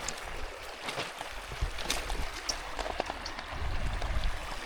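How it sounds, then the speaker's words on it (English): Ozark creek flowing over rocks, a soft continuous babble with scattered small splashes and trickles, close and fairly quiet, with no voices. "we made it down to the creek"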